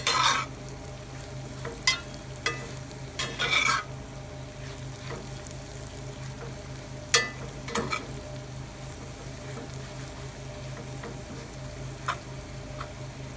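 Poke sallet greens fry and get stirred in oil at an outdoor festival cooking stand: a soft, continuous sizzle over a low steady hum, broken by a few sharp utensil scrapes and clicks near the start and middle.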